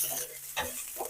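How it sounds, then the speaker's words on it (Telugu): Green chillies frying in a little oil in a pan for peanut chutney, a soft continuous sizzle with a few brief stirring scrapes, close and fairly quiet, no voices. "పచ్చిమిరపకాయలు కొంచెం నూనె వేసి వేయించుతున్నానండి."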